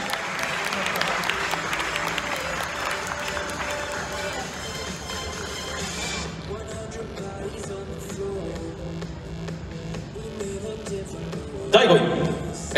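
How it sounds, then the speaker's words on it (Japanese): A crowd at a men's physique novice competition awards ceremony applauds, a steady roar of clapping that fades after a few seconds into quieter crowd noise and shuffling, with a brief louder burst near the end. "大きな拍手をお送りください"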